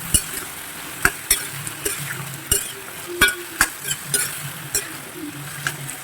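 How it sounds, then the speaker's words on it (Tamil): Brinjal, pumpkin and other vegetables sizzle in a pan for Pongal sambar while a utensil stirs and scrapes at an irregular rhythm, with sharp clinks over a steady frying hiss. "இதில் ஃபஸ்ட்டு கொஞ்சம் நல்லா வதக்குறேன்"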